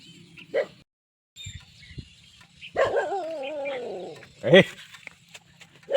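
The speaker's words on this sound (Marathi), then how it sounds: "हे बघा कुत्रे भुकायला लागले" Dogs bark from a farmyard beside a pomegranate orchard in a village, a few sharp barks and a drawn-out whine or howl scattered over six seconds, loud and close, with a voice briefly audible.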